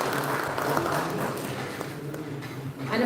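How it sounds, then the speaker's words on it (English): An audience at the Infocom 2022 conference claps for a panelist joining the stage, a steady wash of applause from a crowd with a faint voice underneath. "I'm sure the applause can be better"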